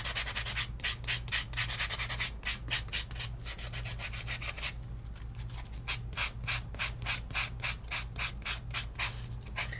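A four-sided sandpaper block rubs back and forth in quick, even strokes, a steady rhythmic rasping close up, pausing briefly midway before resuming, over a constant low hum with no voices.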